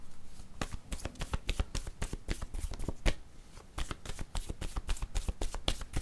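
Oracle cards are handled and drawn in a rapid run of crisp flicks, slaps and riffles, close and dry, going on without pause, with no talking.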